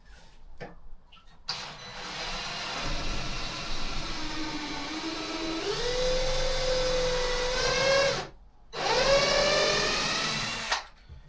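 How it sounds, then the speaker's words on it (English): A power drill drives screws into pre-cut wood pieces right up against the glass of a 900-gallon aquarium, its motor whining and rising in pitch for several seconds, cutting out briefly, then spinning up again up close. "Because we are drilling right up against the glass."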